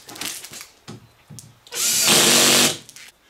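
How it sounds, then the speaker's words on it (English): A power tool torques bolts on a Polaris RZR windshield, a close, loud continuous whir lasting about a second, with brief tool bursts and handling noises just before. "I'm going to torque these in on both sides"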